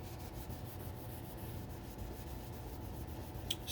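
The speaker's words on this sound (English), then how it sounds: "that little swipe there cleaned a lot of grime off of the fretboard" Steel wool scrubs grime off a guitar fretboard with a steady, close, dry rubbing hiss that runs the whole time at an even level, followed by a brief sharper scrape near the end.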